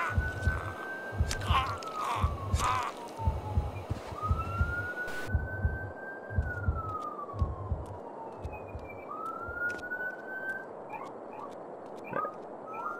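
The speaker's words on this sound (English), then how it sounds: "if you guys hear the ambulance in the back" An ambulance siren wails somewhere behind the action of a PS4 game scene, its slow rising and falling tone faint and distant beneath a steady pulsing game rhythm and a few sharp clicks.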